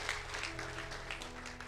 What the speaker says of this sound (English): Can we just give him an applause this morning?